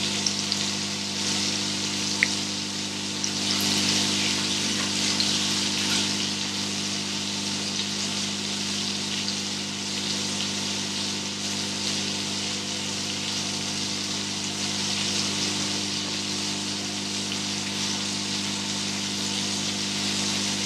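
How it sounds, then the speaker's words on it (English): Flour-coated spiced prawns frying in hot oil give a steady, even sizzle throughout, close and moderately loud, over a low constant hum from a kitchen appliance, with no talking. "as soon as you put it in the oil, some amount of the flour will start to come off as well"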